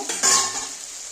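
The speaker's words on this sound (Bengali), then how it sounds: "দেখো সবজিগুলো ভাজা হয়ে আসছে" Vegetables fry in a pan for a Bengali-style small-fish and potato dish, giving a steady close sizzle with a brief stirring scrape near the start and no talking.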